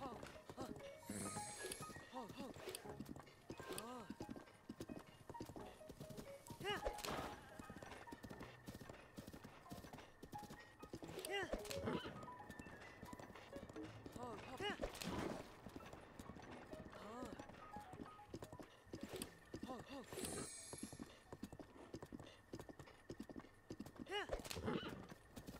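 Rhythmic hoofbeats of a horse galloping in the video game Zelda: Breath of the Wild, clip-clopping at speed, with an occasional whinny, under steady background music and effects.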